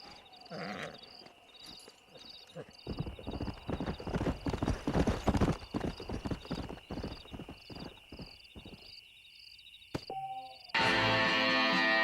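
A stallion's hooves clip-clop at a brisk pace in the Red Dead Redemption video game, with a whinny near the start, insect-like chirping in the background and a burst of louder noise near the end.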